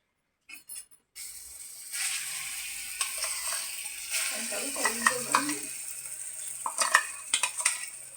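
Ground moong dal is tipped into a pan of golden roasted semolina and stirred, with scraping, clinking spoon strokes and a soft sizzle; low talk can be heard in the background.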